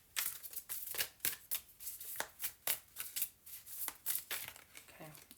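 A deck of tarot cards being shuffled, with quick repeated riffling and flicking bursts in an uneven rhythm, close and crisp, with no talking.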